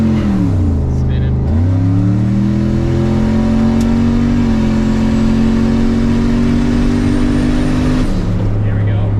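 A car running Holley Terminator X EFI accelerates in first gear, loud engine revs climbing, dipping and climbing again in a sustained pull before cutting back near the end, close and dominant, with a voice briefly heard.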